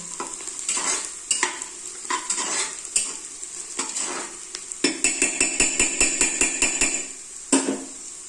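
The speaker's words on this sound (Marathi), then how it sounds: "त्यात हळद टाकूया आपण सगळं मिक्स करून घेऊया" Spoon stirring and scraping turmeric into browned mutton in a pan for a spicy village-style mutton curry, steady clinking scrapes with faint sizzle, then a fast run of rhythmic metallic strokes near the end.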